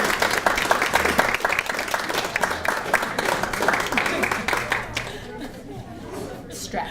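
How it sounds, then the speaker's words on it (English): A room of people at a graduation reception applauds the line of graduates, steady dense clapping for about five seconds before tapering off, with chatter and a few voices mixed in. "Yes, let's give them a round of applause."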